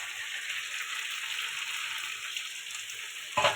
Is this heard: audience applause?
no